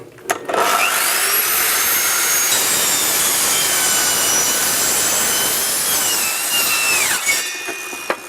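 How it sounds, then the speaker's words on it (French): A radial saw whines loudly and steadily through wood flooring for several seconds, close by, with a brief start and a tapering finish. "L'idéal, c'est de disposer d'une scie radiale comme celle-là, et là, on va se couper effectivement par-dessus"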